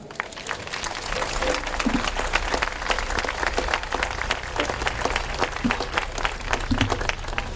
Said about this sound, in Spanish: ya os pido un fuerte aplauso